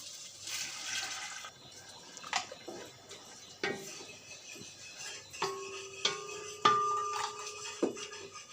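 Jaggery syrup pours into cooked ada in a pot for Kerala ada pradhaman payasam, a quiet, close trickle and slosh with scattered clinks of a utensil against the vessel and no talking.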